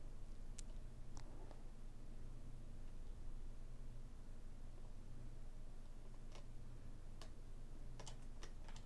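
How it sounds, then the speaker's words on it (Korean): Computer keyboard keys tapped and a mouse clicked during Rhino 3D house modeling, sparse crisp clicks spread through a quiet room, a few in quick clusters near the end. "컨트롤 시프트 키 눌러서 여기를 클릭을 하고요"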